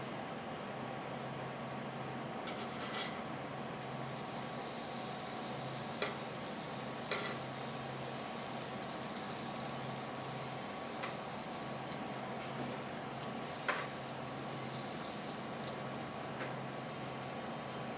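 A veggie burger frying in butter in a pan, a steady close sizzle and crackle running throughout at even level, with an occasional faint tick or tap and no talking.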